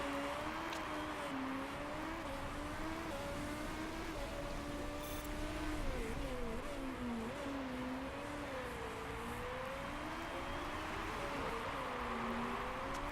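A race car engine in the Motorsport Manager video game holds a steady droning whine that rises and dips gently through gear changes, moderately loud and continuous with no voices.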